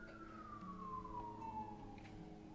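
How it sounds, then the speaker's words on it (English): A single siren tone slides slowly downward, distant and fairly faint, over low traffic rumble with no talking. "Y'all hear them sirens? I know you hear them."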